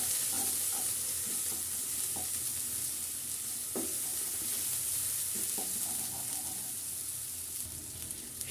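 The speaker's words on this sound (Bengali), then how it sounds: "মশলাগুলো খুব ভালো করে নেড়ে দিব" Spices stirred and fried in a pan for a restaurant-style vegetable and prawn curry: a steady soft sizzle throughout, broken by scattered scraping clicks of a spoon against the pan, with no voices.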